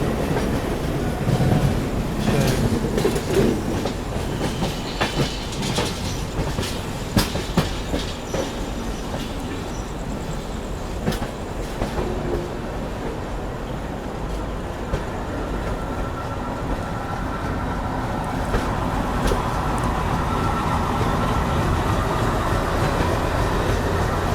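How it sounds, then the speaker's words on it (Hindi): A Kurla shed ALCO diesel locomotive hauls the Gitanjali Superfast Express into Mumbai CSMT station. Its loud, steady rumble carries rhythmic wheel clatter and occasional squeals, continuous throughout. "यहाँ पर अराइवल होता हो अपना CSMT रेलवे स्टेशन पे, कुर्ला शेड का एल्को"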